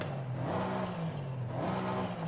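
Twin-turbo Mercedes-Benz E63s engine in Forza Horizon 5 revving repeatedly, a low droning engine note that rises and falls in pitch over a couple of seconds, steady and fairly quiet, with no talk.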